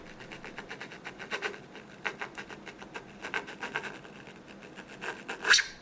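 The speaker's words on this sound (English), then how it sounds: "It also means a lot of scraping." A thin coating is scraped off a Samsung device, flaking away rather than peeling, in close, repeated rasping strokes with an irregular rhythm that grow louder toward the end.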